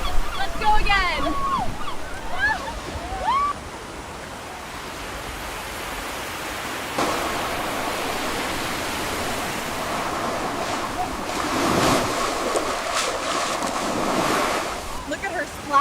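Ocean waves at Carcavelos beach in Portugal, a continuous broad wash of surf with a louder breaking surge near the end, mixed with wind buffeting the microphone and brief voices at the start.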